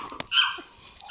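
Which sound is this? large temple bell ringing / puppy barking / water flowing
puppy barking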